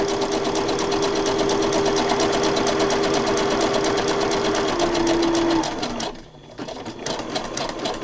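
Sewing machine stitching around the corner of a pocket journal, a fast, steady mechanical hum and clatter up close for several seconds, then stopping briefly before starting again.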